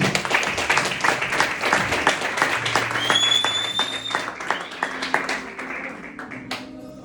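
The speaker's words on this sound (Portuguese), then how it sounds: "Aplauda Jesus." A church congregation bursts into sustained applause at a sermon, many hands clapping densely throughout with brief voices and a whistle-like tone mixed in, tapering toward the end.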